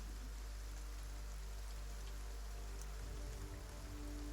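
Steady rainfall patters continuously and fairly faintly, with a low rumble that swells slightly near the end and no voices.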